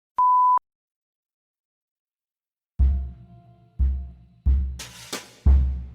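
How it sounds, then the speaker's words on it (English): A single short, pure censor beep sounds alone in silence, followed after a pause by several heavy low thumps and knocks. "I will be censoring the racial slur with a beep"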